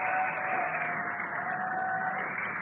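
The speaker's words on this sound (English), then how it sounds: "You can hear the crowd here." A large outdoor crowd cheers steadily and far off as the SpaceX Crew-9 Dragon Freedom capsule descends under drogue parachutes, a continuous wash of distant voices and clapping with no single voice standing out.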